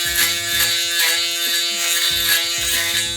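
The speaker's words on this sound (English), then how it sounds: "This right here is a shaver." An electric shaver buzzes steadily up close while shaving a head bald for a fade haircut, its motor tone wavering slightly as it passes over hair in short strokes.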